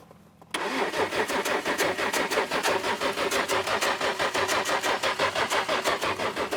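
A car engine cranks on its starter in an auto repair shop, a steady rapid chugging rhythm starting abruptly after a short quiet moment and continuing loudly and close without catching.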